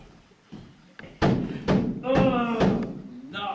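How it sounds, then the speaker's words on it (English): Heavy knocks on a door during a staged Shakespeare performance, several loud dull thuds in an uneven sequence with a spoken voice running over them. "Oh, knock, knock, knock."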